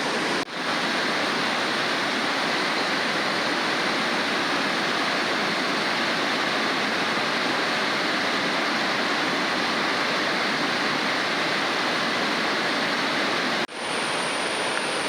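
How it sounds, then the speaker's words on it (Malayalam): A waterfall at Aruvikkuzhi roars as a steady, loud wash of falling water, broad and unchanging, with two brief dropouts near the start and end. "അതിമനോഹരമായിട്ട് നമുക്ക് ആ വെള്ളച്ചാട്ടം കാണാൻ സാധിക്കേ"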